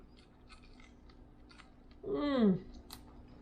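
A brief, loud crunching bite of goat jerky stands out about two seconds in, sandwiched between quiet clicks and faint mouth sounds.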